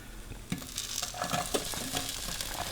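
Holy Trinity vegetables for a Cajun gumbo hit a hot Dutch oven with browned bits, sizzling and frying steadily while being stirred, with occasional scrapes and knocks against the pot.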